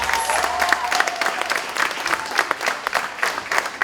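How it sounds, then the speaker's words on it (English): Audience at a Martin Luther King Day celebration held by a Cape Verdean association gives sustained applause, a dense steady clatter of many hands from a standing crowd, with faint voices underneath. "give Professor Kamara a tremendous and a huge round of applause."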